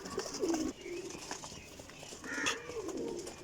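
Pigeons coo nearby in soft, repeated throaty calls, with a few light background rustles and knocks between them.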